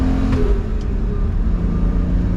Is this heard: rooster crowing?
no